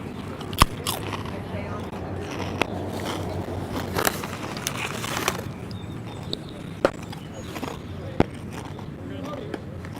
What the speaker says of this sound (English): These chips are pretty crunchy. I'm sure you can hear it.